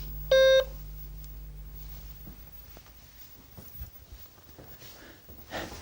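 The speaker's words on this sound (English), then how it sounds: "There we go, the Acorn Electron, beep, firing up." An Acorn Electron home computer gives its short startup beep, a single clear tone lasting about a quarter second, followed by quiet hum and faint handling noises.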